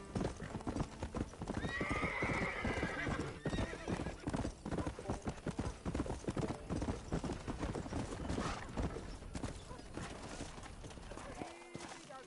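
A horse's hooves clip-clop in a steady, continuous rhythm in the Red Dead video game, close and prominent, with a brief whinny early on and faint ambient game sound beneath.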